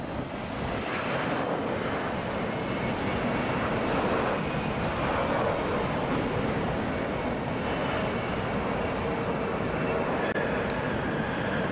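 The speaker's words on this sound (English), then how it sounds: "Flight to Harrisburg on a Boeing 717 scheduled for a 5:05 arrival." A Boeing 717 airliner at Hartsfield-Jackson Atlanta airport gives off a steady, loud, broadband engine roar that holds without a break from start to finish, mixed with wind buffeting the microphone.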